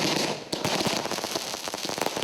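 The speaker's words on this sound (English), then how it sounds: "After the morning cleansing comes the first bit of firecrackers just before the new dawn." At dawn on Diwali, firecrackers go off some way away, a thick run of sharp pops and crackles with one louder bang near the start, all heard at low level.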